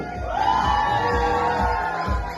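A crowd at a gender reveal party yells and whoops together in a sustained, loud group shout for the baby boy, rising then holding steady for a couple of seconds.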